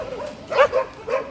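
A dog barks at a monkey in the woods during a hike, giving three short, sharp yipping barks close by with brief pauses between them.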